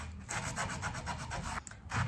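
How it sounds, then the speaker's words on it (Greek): Hand sanding a wooden stool with sandpaper, a close rhythmic scratchy rubbing of quick back-and-forth strokes that pauses briefly near the end before resuming, with no talking. "Τρίβουμε λοιπόν έτσι προσεκτικά."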